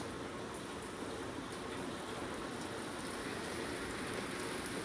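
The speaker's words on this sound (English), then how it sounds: "That rain is coming down now," Heavy rain falls outside a shop, a dense, continuous hiss and patter that stays loud and steady throughout, with no talk.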